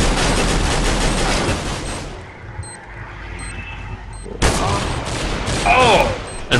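Gunfire in a competitive video game match, with a burst of loud shots, then a brief quieter stretch, then more sharp shots resuming, all under excited player chatter.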